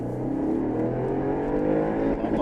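An Audi RS6 with a 4.0 V8 pulls hard at full throttle, its engine note rising steadily in pitch as a continuous loud roar from inside the car, with no talk over it.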